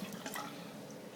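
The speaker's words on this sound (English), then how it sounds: "I'm going to fill my bottle" Water runs into a spray bottle being partly filled at a tap: a soft, steady trickle with faint dripping, quiet and close, over a short stretch with no voices.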